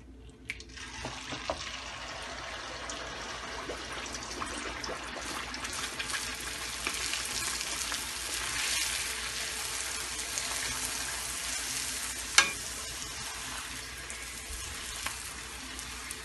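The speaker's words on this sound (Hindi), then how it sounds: "पूरी डालते वक्त ख्याल रखिए कि तेल गर्म होना चाहिए, काफी गर्म होना चाहिए तेल।" Puris frying in very hot oil, a dense, continuous bubbling sizzle held steady for a long stretch at close range, with one brief clink partway through and no talking.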